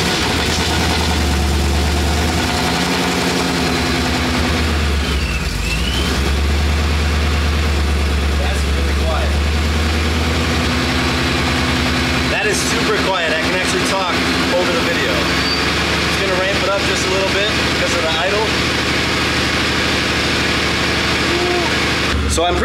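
A 1000hp Ford Mustang idles in quiet exhaust mode, its steady low engine rumble running continuously in the background under intermittent talk.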